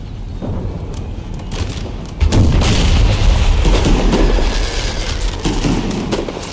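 Cannon batteries in an Empire: Total War battle fire a rapid series of heavy booms and rumbling volleys, building into a denser, louder barrage partway through.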